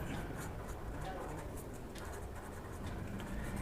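Marker or chalk writes on a board during a physics lesson on the electric dipole, giving a close, continuous scratching with soft taps at a steady level, with no speech during the strokes.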